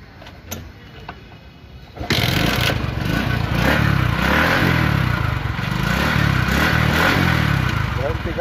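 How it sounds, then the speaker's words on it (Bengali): A used TVS XL 100cc motorcycle with about 2,000 km on it, its single-cylinder engine starting up after a quieter two seconds, then running steadily and loudly close by with a rough, chugging idle. "বাইকের সাউন্ড"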